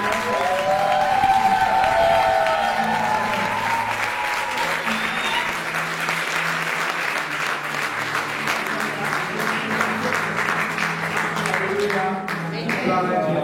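A church congregation applauds and cheers at length during a French-language service, dense sustained clapping with shouts and voices throughout, steady and full over music, fading slightly near the end.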